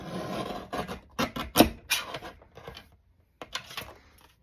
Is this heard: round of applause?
no